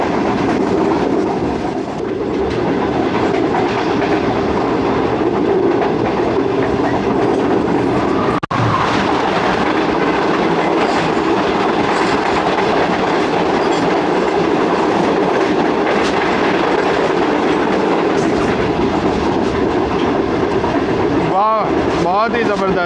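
Shalimar Express passenger train from Karachi Cantt running along the track, a loud steady rumble with rhythmic wheel clatter throughout and a brief squeal near the end, heard from on board.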